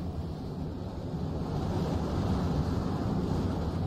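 Storm wind roaring steadily through the wasteland in the Mad Max video game, a broad, dense rushing that swells slightly louder partway through and continues without any talk.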